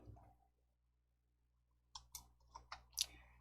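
Several sharp, close mouse clicks in quick succession while working in presentation software, following a brief quiet stretch, with no talking.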